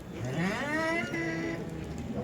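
A cow moos at a livestock market in Kırıkkale, one long, wavering low call rising and holding over a busy background murmur.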